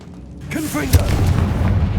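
A Confringo spell goes off in the video game Hogwarts Legacy: a short vocal swoop, then a sharp boom about a second in that trails into a loud, sustained rumble.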